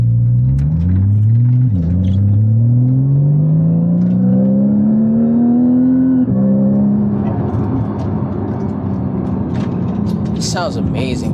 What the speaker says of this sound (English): Sounds amazing too, that flat 6.